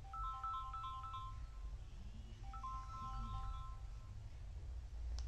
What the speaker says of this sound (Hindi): मेरा फोन भी आ गया पार्सल वाले का।